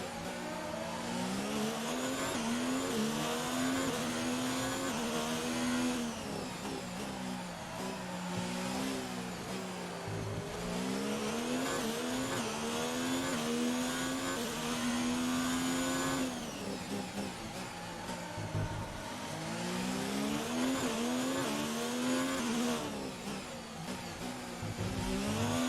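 A Formula 1 car in the F1 2019 racing game on the Azerbaijan Grand Prix circuit, its high-pitched engine screaming continuously as it rises and falls through gear changes, loud and steady throughout with no talk.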